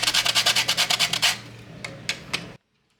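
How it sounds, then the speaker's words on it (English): Whole nutmeg grated by hand, about a teaspoon, makes a quick run of rhythmic rasping strokes up close, then a few slower scrapes before stopping. "Next, I'm going to grate in about a teaspoon of nutmeg."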